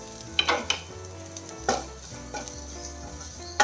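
Grated coconut dropped into hot oil in a pan gives soft sizzling with a few sharp stirring clinks and spoon knocks spread across the stretch, close and fairly quiet, with no talking.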